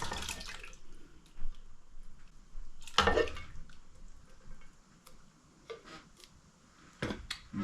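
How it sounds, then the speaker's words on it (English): Two big cans of diced tomatoes go into a pot of vegetable soup, with wet sloshing and splashing, one loud splat near the middle, and scattered drips and clinks around it, all with no talking. "So that's what I'm going to be dropping. 2 of these big cans of diced tomatoes."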